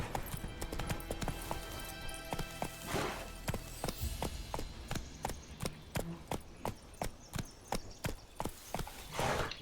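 A horse gallops steadily in The Witcher video game, its loud clip-clop hoofbeats landing in a fast, even rhythm throughout, with a game soundtrack or ambience running faintly underneath.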